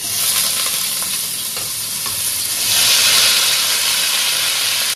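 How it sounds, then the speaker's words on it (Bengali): Young jackfruit fries in hot oil in a wok, a loud, steady sizzle that runs without pause and swells briefly partway through, with no voices. "এবার আমি এঁচোড়টা দিয়ে দিচ্ছি।"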